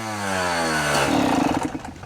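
A Yamaha YZ125 two-stroke dirt bike engine with its idle set too high runs steadily close by, a loud buzzing drone that turns rougher and more uneven partway through.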